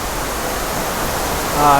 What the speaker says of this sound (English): there is in fact a waterfall